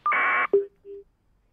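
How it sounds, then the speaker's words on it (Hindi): A phone line drops during a live call-in news broadcast: a short buzzy tone burst, then a click and two brief clean beeps of the disconnect signal, followed by silence. "आपको फोन कट गया"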